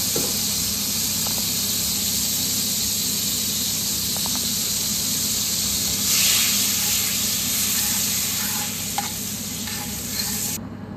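Star margarine melting in hot olive oil in a pan, a steady hissing sizzle throughout that swells louder midway with faint clinks, no voices.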